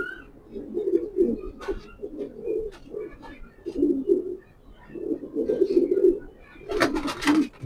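Racing pigeons coo in repeated low, throaty bursts, several rounds close by, with a brief sharper flutter or rustle near the end.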